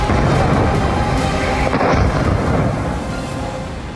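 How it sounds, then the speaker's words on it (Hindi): Iranian missiles strike a US military base in Qatar, producing a loud, continuous, heavy rumbling roar of explosions that slowly fades toward the end, with no voices. "ये तस्वीरें हैं कतर में ईरान के मिसाइल अटैक की"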